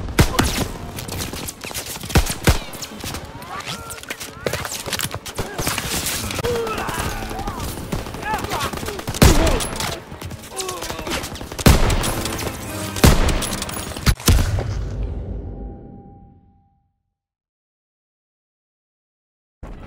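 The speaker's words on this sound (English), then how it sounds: "MG in the hayloft! Take cover!" Call of Duty WW2 D-Day battle: dense machine gun bursts and heavy artillery booms pound continuously for about fifteen seconds, loud and close, with faint shouting mixed in, before the din fades to silence.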